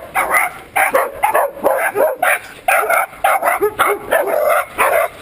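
A dog barks repeatedly in quick bursts, fairly loud and close, alongside a cyclist on a steep uphill road climb, with short pauses between volleys of barks.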